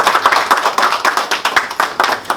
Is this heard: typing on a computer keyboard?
no